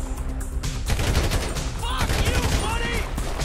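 Gunfire rattles through a GTA V firefight in rapid, loud bursts close by, with overlapping shots and brief whistling ricochet-like tones mixed into the chaotic combat noise.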